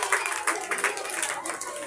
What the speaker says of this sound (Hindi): तालियां बेटी के लिए, जोरदार तालियां।